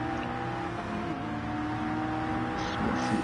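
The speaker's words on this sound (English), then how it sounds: "I do like seeing the McLaren and hearing the McLaren on track." McLaren race car running on track during a British GT round, a steady engine drone with tonal harmonics, fairly continuous and moderately loud, slight pitch shifts as it moves.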